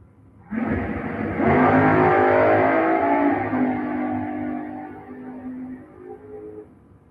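A GMC Sonoma and a dragster launch side by side at a bracket-race drag strip, a loud engine roar that surges sharply after half a second, then holds and slowly fades as the cars pull away, with no talk.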